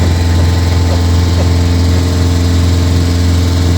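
A motor boat engine chugs loudly and steadily close by on the River Ouse in York, a constant low droning throb as the boat passes, with no talk over it.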